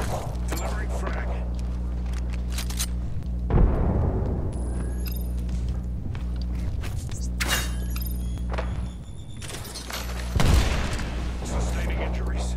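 Apex Legends battle: bursts of gunfire and a booming frag grenade explosion over a constant low in-game drone, with voice lines and chatter heard throughout.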